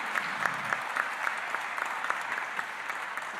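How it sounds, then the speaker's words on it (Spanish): An audience at a Peruvian conference gives the panel of honor a round of applause: dense, sustained clapping from many people in a hall, steady and moderately loud throughout. "un fuerte voto de aplausos para esta excelente mesa de honor"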